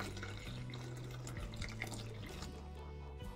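Water runs steadily into a bowl, a continuous splashing pour with a low gurgling tone that shifts as it fills, fairly close and without talk.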